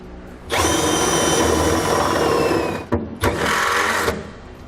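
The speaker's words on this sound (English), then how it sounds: "We're now going to drill out our holes for our safety chain loops" A power drill runs loud and steady for about two seconds with a high whine, stops briefly, then bores again for another second into a steel hitch receiver tube, making 1/2-inch holes; no talking.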